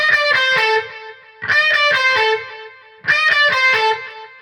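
Three repeated phrases of distorted electric guitar from a solo, each a cluster of bent notes ringing out, loud and up front with pauses between.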